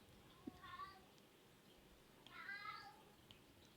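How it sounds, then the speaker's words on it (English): A house cat meows twice in a home, each call a drawn-out, wavering cry, faint against a steady background hiss with a small tap between them. "Can you hear my cat meowing?"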